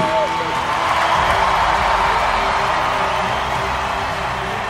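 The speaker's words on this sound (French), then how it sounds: "On acclame Jésus" A church congregation at a French-language worship service cheers and acclaims Jesus, a dense, loud, continuous roar of many voices with whoops and clapping, sustained without a break throughout.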